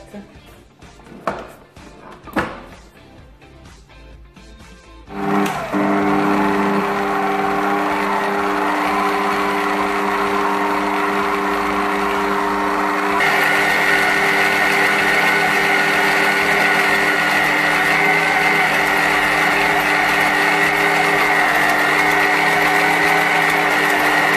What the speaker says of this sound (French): Et je vais ensuite démarrer mon robot afin de faire travailler ma pâte.